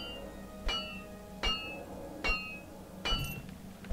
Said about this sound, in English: Just hit it with a hammer, I guess, huh?